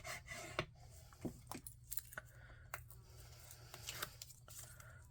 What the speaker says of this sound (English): Give it a nice little rub down.